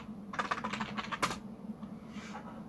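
Fingers tap out a short burst of keystrokes on a computer keyboard, a quick close run of light clicks, then a single key press and quiet.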